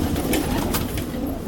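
Pigeons kept by a pigeon-fancier in India coo close by, low soft throaty calls repeating over a background of faint bird chatter and ambient noise.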